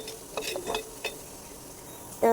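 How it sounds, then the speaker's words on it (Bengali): Chickpeas and eggplant go into hot oil in a pan with a short burst of light sizzling and a few scraping stirs, ending in a brief louder clatter. "আমার বুট বেগুনগুলা তেলে নিচ্ছি"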